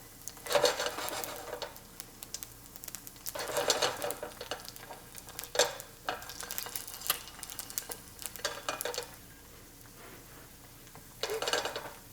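An egg fries in a pan, with a steady quiet sizzle and crackle running throughout and louder bursts of spattering coming and going, no voices present.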